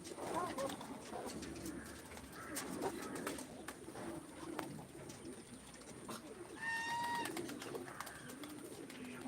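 Pigeons coo softly in low, rolling calls across a quiet outdoor background, with a brief higher birdcall partway through.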